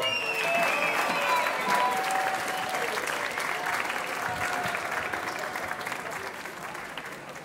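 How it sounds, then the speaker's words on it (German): A festival crowd at an outdoor rock concert claps and cheers in a sustained burst of applause, loud at first and slowly tapering off, with scattered whistles and shouts rising above the clapping. "mach mal einen Applaus"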